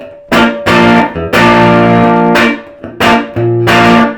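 Distorted electric guitar playing a verse rhythm progression, loud sustained chords struck in short bursts with brief gaps and choppy accents, close and alone without talk.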